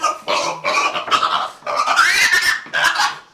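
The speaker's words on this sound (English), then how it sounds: "We're gonna go get our feeder pigs for this year." Feeder pigs grunting and squealing at close range on a farm during hog hauling, a run of loud, strained vocal bursts with short gaps between them.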